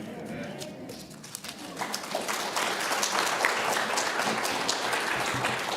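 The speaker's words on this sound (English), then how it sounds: "I never get applause after sermons" Church congregation breaks into applause after a sermon, a dense wash of clapping that swells from quiet after the first second and holds steady, fairly distant in the room, with some speech mixed in.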